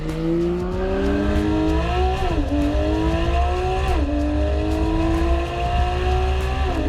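Porsche 991 GT3 RS flat-six engine revving loud and close on a race track, rising through gears with sharp pitch drops at each shift around two and four seconds, a steady high-pitched wail throughout.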